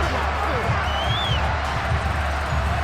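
Football stadium crowd in a Bills versus Buccaneers game rumbles with a dense, continuous roar of disapproval, loud and sustained throughout, with a faint whistle rising briefly in the middle.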